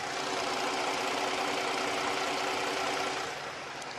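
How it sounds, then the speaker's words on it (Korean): A gasoline full-size four-wheel-drive SUV engine idles steadily, giving a smooth, even, broadband hum heard from close by with no voices, easing slightly at the end. "엔진 소음 먼저 들려드리면은"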